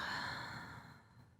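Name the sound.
slow deep breathing during meditation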